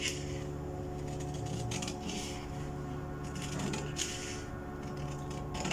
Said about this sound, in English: So I'll just take my scissors and cut through.